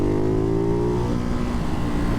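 A Ducati Hypermotard 698 Mono single-cylinder motorcycle with a Termignoni exhaust accelerates hard, its loud, steady engine note climbing in pitch close by, running alone without talk.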